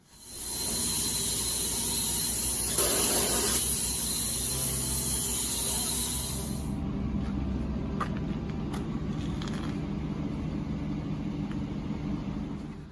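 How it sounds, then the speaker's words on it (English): Spray foam insulation goes on in a new house with a loud, continuous hissing spray for about six seconds, then gives way to a lower mechanical rumble and scattered clicks. "You saw the clips there of the spray foam."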